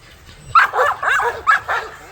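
A farm dog gives several quick yips and barks in short bursts, close and fairly loud, with a whimpering edge.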